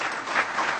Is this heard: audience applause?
yes